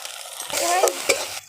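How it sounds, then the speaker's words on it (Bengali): Spices fry in oil in a pan for a pointed gourd curry as a spoon stirs them, giving a short burst of close sizzling with scraping strokes and no voices. "মশলাগুলো ভাজা ভাজা হয়ে গেছে, এবার পরিমাণ মতো লবণ দিয়ে দিলাম, নাড়াচাড়া করে দেব।"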